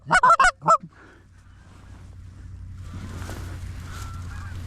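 Geese flying overhead during a hunt give a quick series of loud, close honks at the start, then fade into faint distant calls over wind and field noise.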